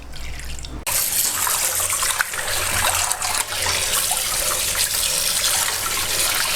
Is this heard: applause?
no